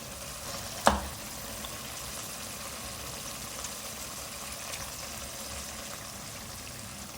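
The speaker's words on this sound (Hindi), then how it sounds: "हाफ केजी मटन है, ये डालूँगी इसमें" Half a kilo of mutton drops into browned frying onions in a pan, giving one sharp thud followed by a steady, moderate sizzle of oil that continues throughout with no talking.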